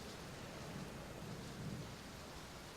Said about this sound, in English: It was raining outside.